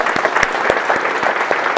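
An audience in a half gymnasium of a Catholic school applauds steadily through a community design presentation, a dense, close wash of overlapping claps with sharper individual hand strikes popping out at irregular moments.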